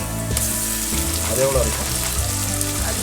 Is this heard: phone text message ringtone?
no